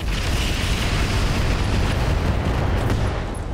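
A turret in a BattleTech mech video game blows up with a dense, roaring explosion that fills the whole clip, loud and sustained with a rumbling low end and no voices over it.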